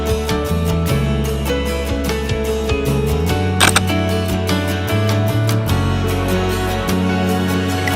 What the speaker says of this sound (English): So all I have to do is press the shutter, allowing me to easily capture the beauty of any fast-moving subject.